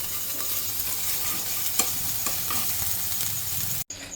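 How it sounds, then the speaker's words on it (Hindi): Chopped onion sautés in a pan with a continuous close crackling sizzle and occasional scraping stirs, a low hum running underneath and a brief cut-out near the end; no one speaks. "ये प्याज मेरा इधर सॉट हो रहा है"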